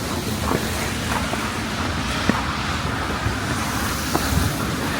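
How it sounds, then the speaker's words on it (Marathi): Cars creep slowly along a snow-covered road in a Dutch city, a steady low rumble of traffic mixed with wind buffeting the microphone and a few faint knocks and bumps. "इथे नेहमीच्या स्पीडपेक्षाही खूप स्लो गाड्या चाललेल्या आहेत"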